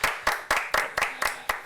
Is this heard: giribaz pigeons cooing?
no